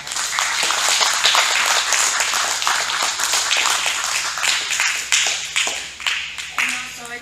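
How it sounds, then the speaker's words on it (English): An audience applauds steadily, with dense clapping sustained for several seconds over a low background hum before tapering off. "Let's give them another round of applause."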